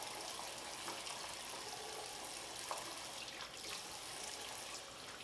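A makeup brush is rinsed under running tap water, a faint, steady splashing flow lasting the whole stretch with slight variations.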